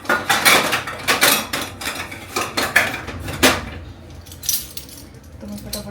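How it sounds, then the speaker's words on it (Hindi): Dishes, pots and pans being hand-washed in a home kitchen sink, clattering and clinking in quick irregular bursts, close and fairly loud, with cutlery rattling against metal and a quieter stretch near the end. "तो मैं फटाफट से बर्तन धो लेती हूँ"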